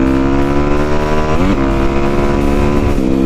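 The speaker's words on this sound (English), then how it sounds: "you rev, you don't let off the throttle, you pull the clutch in quickly, flip it into gear, and then go" A dirt bike engine revs hard and steadily, loud and close, its pitch dipping briefly twice as the gear is shifted with the throttle held on, then climbing again.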